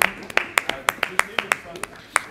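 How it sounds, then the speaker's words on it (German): A handful of people clap sparsely for the women, producing a few distinct, irregular claps spaced apart rather than a full applause, with a voice faintly present underneath. "Applaus für die Ladies."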